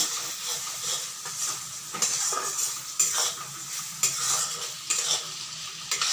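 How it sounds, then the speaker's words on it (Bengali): Masala spice paste for fish curry frying in a pan, with a loud close sizzle and a utensil scraping and stirring in repeated strokes, metal clinks marking each pass, and no one speaking. "মশলা কষানো প্রায় হয়েই গেছে।"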